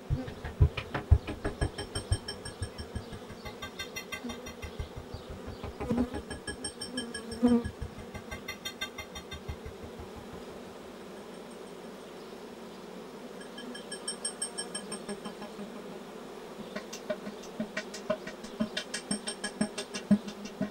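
Honeybees in a honey-producing colony buzz in a steady, low drone that swells and recedes over about twenty seconds, with no voices over it.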